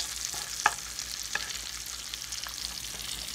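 Food frying in a skillet on a stove over medium heat, a continuous bright sizzle with a few soft clinks and stirring taps.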